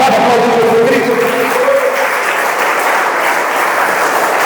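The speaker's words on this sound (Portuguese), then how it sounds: "Que pode aplaudir Jesus Cristo?" A church congregation applauding at a Brazilian worship service, a loud, sustained wash of clapping filling the room, with a voice speaking over the first moments.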